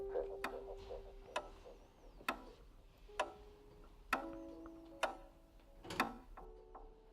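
Steady ticking of a wall clock hanging overhead, sharp regular clicks roughly one per second standing out clearly over a faint hum and low background murmur, with no talk.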